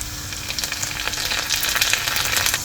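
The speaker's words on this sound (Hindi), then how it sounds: "तो तेल गर्म हो गया तो राई डालेंगे, थोड़ा सा डालेंगे जीरा, तो प्याज डालेंगे इसके अंदर" Mustard seeds, cumin, chopped onion and torn curry leaves crackle and sizzle in hot oil for a Rajma dish made with leftover rice, a steady bright frying hiss with dense little pops, close and alone without talk.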